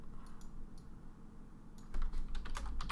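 Typing code on a computer keyboard, quick light key clicks in short bursts, sparse at first and then a denser flurry of close taps, with no voices.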